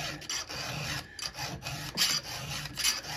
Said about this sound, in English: we're gonna start filing on that tooth